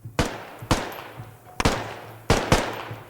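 Repeated loud gunshots aimed at windows in the video game Squad, four sharp cracks about a second apart with ringing tails over a low background drone, no voices.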